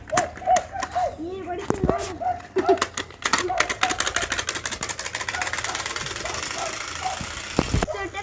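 Bicycle fitted with a silencer-like device that mimics a motorbike engine, giving a rough sputtering drone that builds and runs steadily close by, with voices talking over the start.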